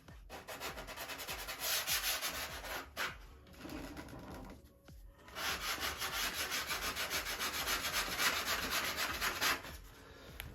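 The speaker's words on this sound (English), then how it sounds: "Sand this a little bit. Just to take some of that roughness off of there." Sanding a balsa wing fillet on a Top Flite .60 size P-40E Warhawk model, with rhythmic close rubbing strokes in steady bursts and brief pauses between passes.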